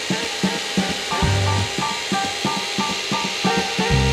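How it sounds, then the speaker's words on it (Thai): An Osuka OCRH852 rotary hammer drill runs in short bursts while a bit is fitted and tested, giving repeated rattling whirs with brief pauses, close and fairly loud, with no talk. "เดี๋ยวผมลองดอกแพงๆใส่เข้าไปดูนะครับ"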